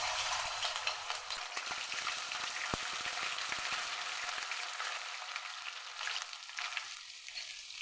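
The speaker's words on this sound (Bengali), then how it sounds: "তেল গরম হয়ে গেছে, রসুন বাটা দিয়ে দিলাম" Garlic paste sizzling and frying in hot oil for dal makhani, a steady bright crackle that gradually quiets, with a few soft stirring knocks.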